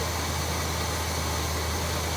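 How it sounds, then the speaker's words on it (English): A car engine that sat unused for years idles on its own, a steady low hum under a hissy wash of noise, unchanging and without talking for a couple of seconds. "It's idling on its own."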